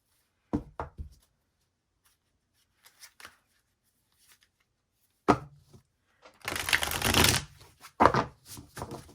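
Close-up tarot card shuffling: a few sharp taps and flicks, then a long riffling shuffle followed by more quick flutters.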